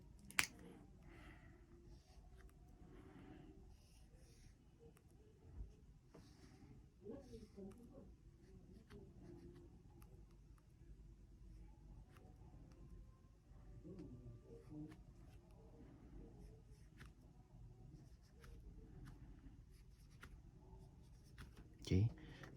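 Pencil or pen scratching on paper while drawing a geometry figure of triangles, a steady soft scraping texture under quiet classroom-style talk, with occasional small clicks.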